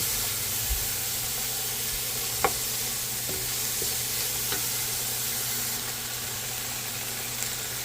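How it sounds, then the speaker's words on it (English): Seasoning and garlic cook in a pan for a minced-meat pastel filling, giving a constant close sizzle and hiss with a few soft clicks of stirring. "give that a good mix and allow it to cook in there for a bit. It's going to cook and soften."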